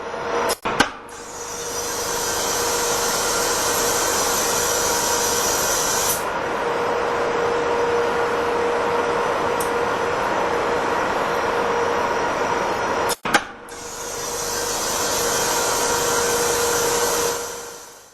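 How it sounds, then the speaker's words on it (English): Gas pulse acoustic boiler cleaner in a cement plant boiler: a sharp bang, a long steady roaring hiss, a second bang at about 13 seconds, then the roar again, with no talk. "the sound of the gas pulse cleaning is not disturbingly audible outside the boiler"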